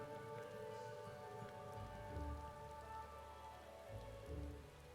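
Steady rain patters on surfaces in Final Fantasy XIV, a soft continuous hiss of drops with low tonal game music swelling beneath, no voices.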